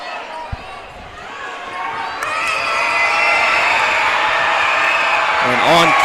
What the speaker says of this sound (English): And on cue, the Buffaloes crowd gets rowdy.